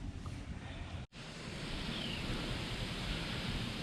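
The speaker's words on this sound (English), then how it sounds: "So I'm getting a little wind here" Wind gusts steadily across an outdoor microphone beside a portable foldable solar panel setup, a broad continuous rushing roar with a brief dropout near the start, then constant buffeting.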